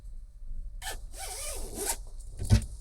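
A zip being done up on a Red Bull Racing jacket, a close rasping pull in short strokes with a sharp final tug, no talking.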